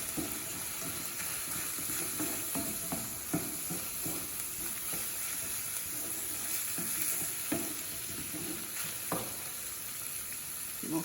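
Flour being stirred into Aussie meat pie filling in a hot pan, a constant sizzle with repeated scraping and tapping of a spoon, close and fairly quiet.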